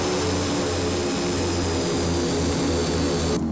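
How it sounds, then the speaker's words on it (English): A Carenado Caravan EX turboprop in X-Plane 11 applies reverse thrust. A loud, steady engine roar with a whining, droning hum holds at full strength for over three seconds, then cuts off abruptly near the end. "Oh, reverse thrust, and I haven't bound my controls for the reverse thrust."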